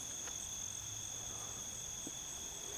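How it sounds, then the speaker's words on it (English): Crickets chirp steadily outdoors at night, a continuous high-pitched trill holding through the quiet surroundings with a couple of faint clicks and no voices. "Except for the crickets."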